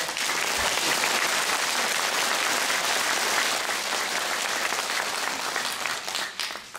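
Sustained applause from an audience at a political rally in Korea, a dense, steady wash of clapping filling the space for several seconds before thinning slightly at the end.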